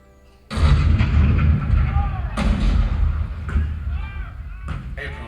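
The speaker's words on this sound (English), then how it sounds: "The cannon spoke for war, bitter, violent, and devastating." Cannon fire at Fort Sumter booms in heavy, rumbling blasts, several deep explosions following one another over a few seconds with sustained low roar and crackle between them.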